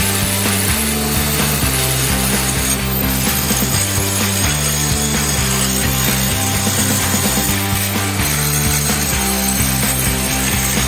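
A Rotorazer compact saw cuts wood pieces for a bat house, a loud continuous motor whine close by with rhythmic shifts in pitch as each cut bites and finishes.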